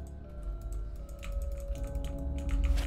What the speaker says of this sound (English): I'm auto clicking.